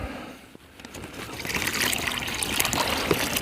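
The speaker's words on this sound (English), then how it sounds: "we're going to take our plastic bags and we're going to fill these with water" Warm water trickles and pours into plastic bags being filled for treating hypothermia outdoors, a steady splashing stream that starts softly and then grows fuller and louder.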